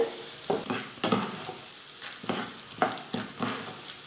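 Oil sizzles and crackles steadily in a pan as urad dal and chana dal fry, with bursts of stirring scrapes about every half second; no talking.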